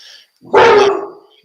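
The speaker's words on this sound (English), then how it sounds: "Whose dog is that?" A dog gives a single loud, close bark indoors. It is short and sharp and comes right after a brief faint sound.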